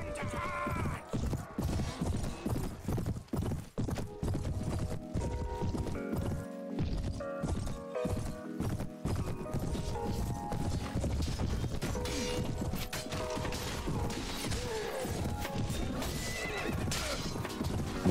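Horse hooves clip-clopping and repeated neighing in the medieval combat game Prophesy of Pendor, a busy mix of hoofbeats, whinnies and battle noise that stays loud throughout.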